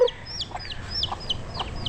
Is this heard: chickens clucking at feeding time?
yes